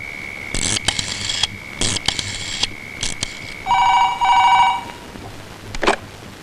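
A telephone rings in a Malayalam comedy scene: repeated bright electronic ring bursts and a short buzzing tone, fairly loud and with no talk.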